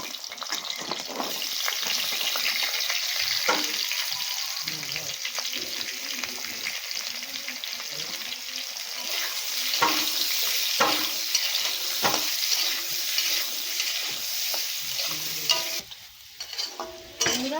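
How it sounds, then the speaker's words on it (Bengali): Potatoes frying in oil in a wok make a continuous bubbling sizzle, with intermittent scraping and stirring knocks and occasional louder crackles. "এবার আবার তেল দিয়ে একটু আলুগুলো ভেজে নেব এগুলো দিয়ে দেবো তেলে"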